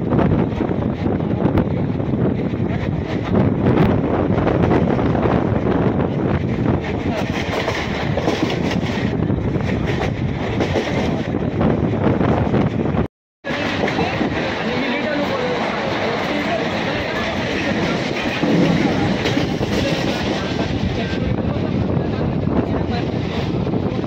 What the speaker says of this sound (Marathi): ट्रेनमध्ये लटकलो आहे मित्रांनो